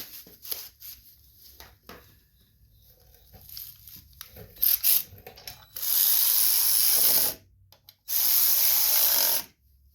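A ratchet tightens bolts on the carburetor of a Cub Cadet riding lawn mower, starting with faint scattered clicks and taps, then two loud, close, sustained bursts of rapid ratcheting with a short pause between them.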